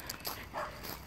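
A dog barks at a passerby on a street in Mallow town, County Cork, Ireland: a few faint, distant yips and barks carry over outdoor background noise, with no one talking.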